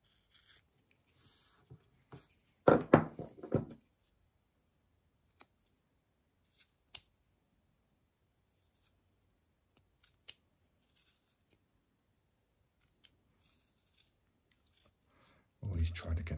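A knife whittles a small basswood figure along a pencil line, making a brief scraping, rasping burst of cuts early on, then a few sparse clicks and taps in near silence before another close scraping burst at the end.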